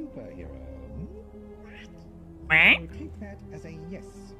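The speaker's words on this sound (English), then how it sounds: "I love Donald Duck noises." A Donald Duck-style cartoon quacking voice from a game gives a loud, raspy squawk burst in the middle, set against quieter game music and other background tones.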